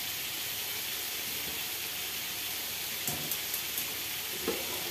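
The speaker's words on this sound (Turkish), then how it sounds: "mantarlı pilavımız için tereyağını tenceremize aldık" Butter sizzles in a pot for mushroom bulgur pilaf, a steady broad frying hiss with a few faint clinks of a utensil near the end, no talking.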